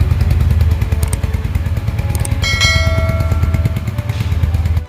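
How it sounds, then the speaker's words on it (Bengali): A 2025 Royal Enfield Hunter 350 idling close by, with a loud, steady, deep low thump and some light metallic clatter and ringing partway through. "রয়্যাল এনফিল্ডের ট্রেডমার্ক থ্রাম সাউন্ড কিন্তু রয়ে গেছে"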